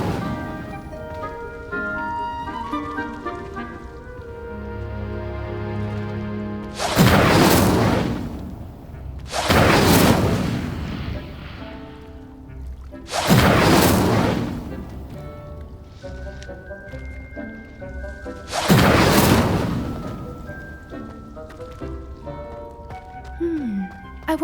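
Fire spell cast in the video game Hogwarts Legacy, heard as four loud, roaring whooshing blasts spaced a few seconds apart over a musical background with chimes and tones.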